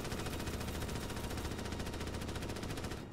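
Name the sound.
gunfire in the video game Starship Troopers: Extermination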